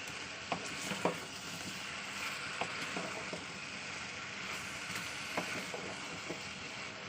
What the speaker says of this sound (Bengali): ভালো করে এখন দু মিনিট ধরে কষাবো